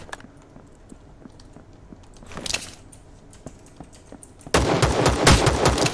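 Rapid video game gunfire crackles in bursts, with a short volley midway and then a loud sustained stretch of shots near the end over a low background.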